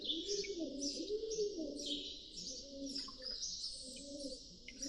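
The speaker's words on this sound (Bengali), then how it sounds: "আর আশেপাশে অনেক কবুতর আছে" Several pigeons coo in low, rolling calls, close by at Heet Cave, overlapping under a constant high chirping of other birds.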